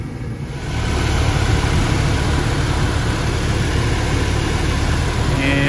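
A furnace blower and inducer motor start up and run with a loud, steady droning hum, and the unit sounds faulty.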